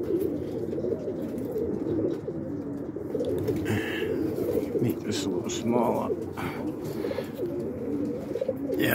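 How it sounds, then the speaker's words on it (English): Pet pigeons cooing around a porch, their soft repeated coos rising over steady outdoor noise while a person talks nearby. "See all the pigeons up. They're all over the place there."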